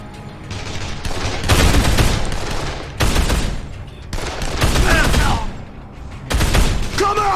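Rifle fire in Dead Island comes in loud, close bursts of rapid shots, four separate volleys separated by brief pauses, each with a sharp crack and booming low end.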